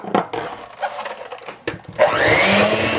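An electric mixer whips egg yolks with heavy cream, switching on partway through after some quiet clatter and then running as a loud, steady, close whir with no talking.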